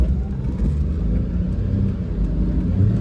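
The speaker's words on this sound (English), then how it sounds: "now what I want to do is punch it up this hill" A Mitsubishi Townbox kei van accelerates hard up a hill, its small engine droning steadily in a close, continuous rumble with road noise throughout.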